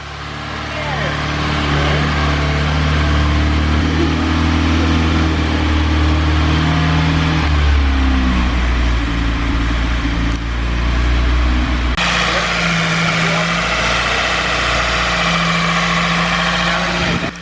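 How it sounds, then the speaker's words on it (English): A 1980s Volkswagen engine runs strong and loud with the choke pulled out, on its first start after ten years of sitting, its steady rumble shifting in tone partway through. "She's running pretty strong while the choke is pulled out, but without it she can't idle."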